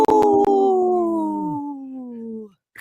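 A woman imitates a wolf howl close up: one long, loud, wavering tone that slowly falls in pitch and fades, with a couple of sharp clicks at the start.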